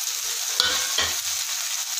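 Whole black cardamom and a cinnamon stick crackle briefly in hot oil in a pan, a soft steady sizzle with two short stirring scrapes near the start and middle.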